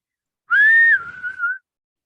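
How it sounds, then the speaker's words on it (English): A person whistles a short tune: one clear, rising note held briefly, then a lower wavering phrase that ends quickly, heard alone in silence. "if I whistled something, they would whistle a similar tune back"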